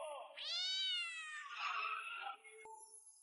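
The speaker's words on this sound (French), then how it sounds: "C'est juste un chat noir." A black cat meowing close by, one long rising and falling meow followed by a shorter, rougher cry, then a brief click and quiet.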